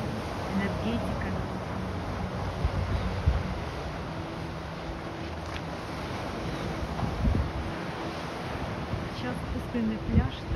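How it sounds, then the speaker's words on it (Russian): Waves breaking on an empty beach, a steady rolling surf wash with gusts of wind over the microphone, continuous and fairly close, with no voices. "только волны бьются на берег."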